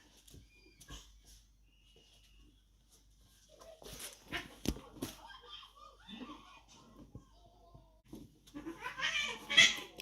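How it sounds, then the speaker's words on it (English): Cats fight inside an RV, heard muffled through the walls, with intermittent yowls, growls and hissing bursts that grow more intense toward the end over faint background noise. "I can hear the cats fighting"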